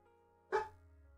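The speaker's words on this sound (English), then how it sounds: "Did you guys hear the dog fussing?" A single sharp dog bark rings out once at moderate distance over a quiet, humming indoor background, then fades into silence.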